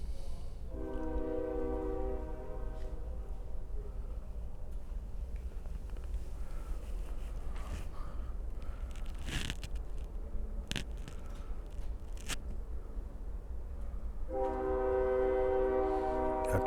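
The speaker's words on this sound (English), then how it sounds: "A train going by." A passing train sounds its horn in two long blasts, one at the start and one at the end. A steady rumble of rolling cars fills the gap, with clanks heard at an outdoor auction in Kansas City.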